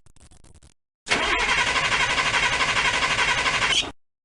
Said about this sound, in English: crank the engine until the maximum pressure is reached on the gauge